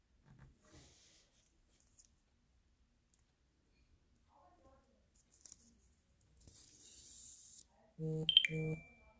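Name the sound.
phone notification beep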